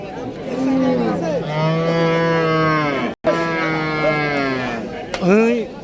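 Dairy cows at a busy cattle market in Rajshahi give loud, drawn-out moos close by. Two long calls are split by a brief gap, then a shorter bellow follows, over faint crowd chatter.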